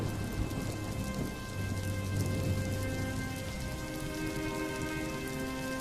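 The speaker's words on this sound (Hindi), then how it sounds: "बारिश में आंगन में रखी आरती की सूखी लकड़ियां तुरंत भीग गईं" Heavy nighttime rain pours down in a dense, steady roar during a storm, with a low rumble of thunder rolling underneath and no voices.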